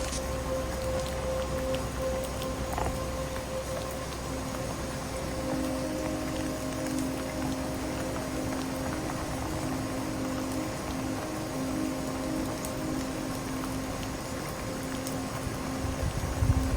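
Steady rain falls through a dark night sky over Florida, a continuous even hiss of drops with a faint low hum beneath, no voices, holding at the same level throughout with a brief bump at the very end.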